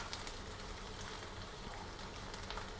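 Chopped garlic sizzling in hot ghee in a pan, a steady, dense crackle and hiss that runs unbroken and fairly loud.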